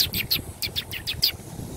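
A person whistles imitation bird calls outdoors while approaching an unusual lizard with a triangular head and a yellow stripe: a series of about seven short, high chirps in an uneven rhythm, close and moderately loud, with no talk.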